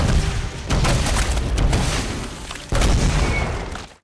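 Two heavy booming blasts in the film Slither, one at the start and another a few seconds later, each followed by a rumbling roar that fades out.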